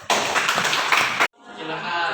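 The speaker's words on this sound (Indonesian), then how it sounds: "Ya, tepuk tangan dulu." A classroom audience claps together in a dense, loud burst of applause lasting just over a second, then stops abruptly, leaving quieter room sound behind.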